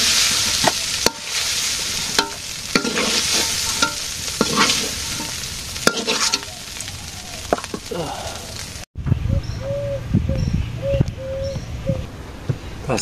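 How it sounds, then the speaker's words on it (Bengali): Fish fries with onions, a loud close sizzle broken by stirring clatter. It then gives way to a quieter stretch where pigeons coo in the background. "আজকে দেখি পেঁয়াজ দিয়া মাছ ভাজি কেমন লাগে"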